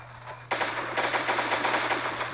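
Rapid machine gun fire in a video game, a continuous fast rattling burst right up front, loud and sustained for a couple of seconds over a steady low hum.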